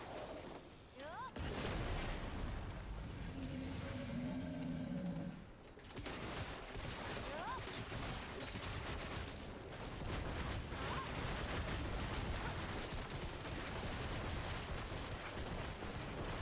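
Explosions in Black Desert Online in the Yhazrid highlands: dense, rumbling bursts of blast and crackling gunfire-like noise that run almost continuously at steady loudness, with a voice talking faintly underneath.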